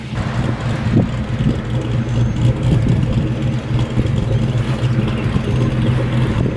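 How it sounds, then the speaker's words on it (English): A Fox-body Ford Mustang's engine rumbles steadily as it drives past on the road, a low mid-pitched drone with slight revving, no talking. "We're gonna hear his car, see what she sounds like going down the road"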